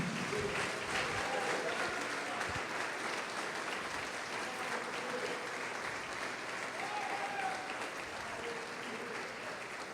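A church congregation applauding during a worship service, a loud sustained round of clapping from a crowd with scattered voices and faint shouts mixed in, steady across the whole stretch.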